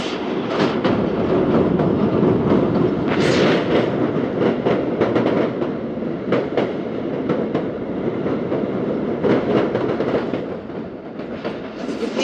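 Thal Express passenger train running along a long curve after crossing a bridge in mountain country, a steady loud rumble with rhythmic clickety-clack of wheels on rail joints, sustained throughout with no voices.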